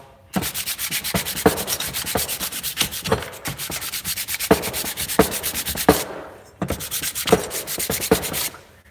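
Sandpaper rubbed hard across the cylinder head of a Predator 212 small engine, a steady run of close, loud rasping back-and-forth strokes with a brief pause midway, no talking.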